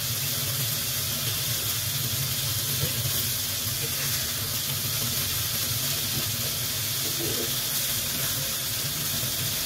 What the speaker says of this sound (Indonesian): Jadi ini ikan dorinya kita goreng setengah kering aja